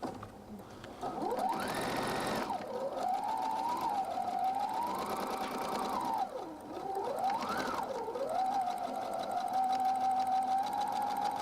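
A sewing machine stitches a seam, its motor whining close and steady, rising and falling in speed, briefly pausing midway and then running on alone.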